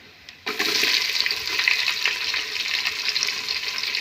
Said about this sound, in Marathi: कांदा लागलाय बघा तळायला